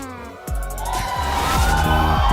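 Arena crowd of fans roaring at the MLBB M6 World Championship esports knockout stage, a loud sustained swell of cheering that bursts in suddenly and builds, with heavy booming music underneath.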